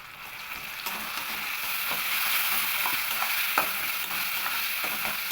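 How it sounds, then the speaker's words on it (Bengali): Mashed pointed gourd pulp going into a pan of fried onion, garlic and chili, with a steady close sizzle and scraping, stirring clicks throughout, no voices. "এবার আমি পটলের যে শাঁসগুলো বের করে রেখেছিলাম সেই শাঁসটা দিয়ে দেব।"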